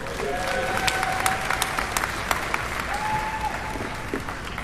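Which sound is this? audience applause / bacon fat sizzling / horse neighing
audience applause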